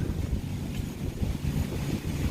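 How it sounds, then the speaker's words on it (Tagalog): Strong gusty wind in the aftermath of Hurricane Dorian, 2019, buffets the microphone with a continuous low roar and rumble, steady and loud throughout. "lakas pa rin ang hangin ngayon"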